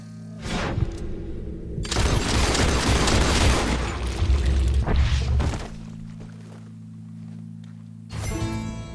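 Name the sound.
gunshot in Red Dead Redemption 2 video game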